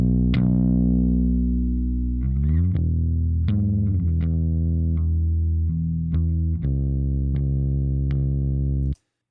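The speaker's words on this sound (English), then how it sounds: "we don't want to set attack and release times too fast on bass instruments because that will cause distortion" A bass instrument runs through a compressor set with too-fast attack and release, giving its sustained low notes a gritty, fluttering distortion. Several held notes are played in sequence, loud and up close, then stop abruptly.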